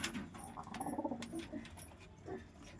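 Domestic pigeons coo in low, soft murmurs, joined by scattered rustling and light clinks nearby, with no talk.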